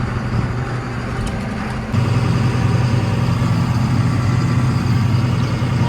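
Tractor engine idling steadily near an auger wagon unloading harvested corn into a semi, a low continuous engine rumble that steps up louder about two seconds in and holds, no speech.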